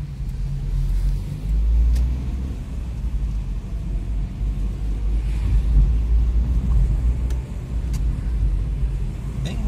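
A car drives through a town in Franca, São Paulo, in rainy weather, its engine a steady low rumble with road and wet-tire noise continuous throughout, a few faint clicks over the drone.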